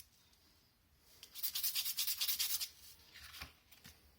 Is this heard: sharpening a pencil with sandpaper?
yes